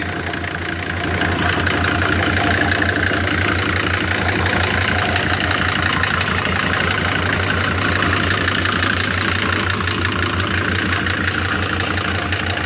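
A Mercedes OM602 2.9-litre diesel engine idles steadily, a loud, even low rumble with a rhythmic knocking chug that continues without a break and no talk.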